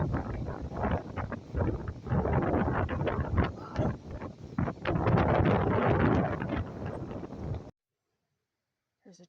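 Wind gusting through a forest at Beaver Lake Nature Center in Baldwinsville, NY, buffets the microphone in loud, rough, uneven rushes before cutting off to near silence at the end.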